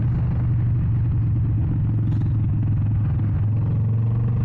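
A Harley-Davidson XL 883 Iron Sportster engine running in a steady, loud, low throbbing rumble that continues without a break, heard while riding.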